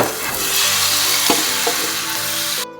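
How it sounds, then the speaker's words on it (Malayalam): Banana batter poured into hot ghee in a pan sizzles loudly and steadily, a close bright frying hiss with a light scrape, cutting off abruptly at the end. "നെയ്യ് നന്നായിട്ട് ചൂടായ ശേഷം നമ്മൾ ഉണ്ടാക്കി വെച്ച ബാറ്റർ ഇതിലേക്ക് ഒഴിച്ച് കൊടുക്കുക"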